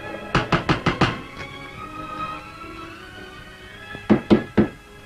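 Knocking on a door in a 1956 Hindi film scene: a quick burst of about five firm raps, a pause with quiet room tone, then three more spaced knocks, close and clear with no talk over them.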